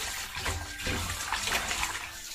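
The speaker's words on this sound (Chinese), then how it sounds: "再来把上面的血沫给它清洗干净。" Running water rinses blanched beef intestine in a kitchen, a close, steady gushing and splashing with shifting surges as the pieces are handled, with no voices.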